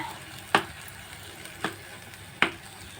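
A spoon scrapes three times through cucumber cake batter as cardamom and cashews are stirred in. Each scrape is a brief, soft stroke spaced about a second apart over quiet background hiss.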